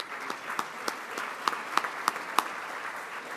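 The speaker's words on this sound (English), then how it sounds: "So if you'll give all of our visitors a round of applause" A small meeting audience gives visitors a round of applause, light scattered clapping with a few sharper, distinct claps, fairly quiet and steady throughout.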